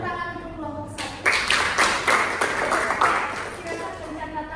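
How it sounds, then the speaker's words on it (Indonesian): Students in a classroom clap for group 1 during an Islamic accounting lesson. A voice speaks briefly, then a short round of rapid, close hand claps breaks out and tapers off. "tepuk tangan untuk kelompok 1"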